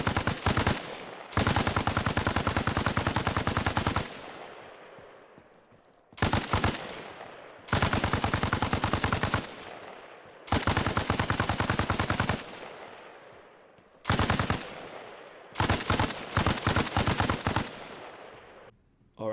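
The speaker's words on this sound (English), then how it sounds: "I'm actually loading this up with tracer rounds" A machine gun loaded with tracer rounds hammers an LAV in Arma Reforger, firing in several long sustained bursts separated by short pauses, loud and close, each burst ending with a fading echo.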